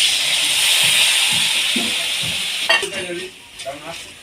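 Spicy taro curry with batter fries in a pan with a bright, steady sizzle, then stirring brings clattering scrapes and clinks as the hiss fades.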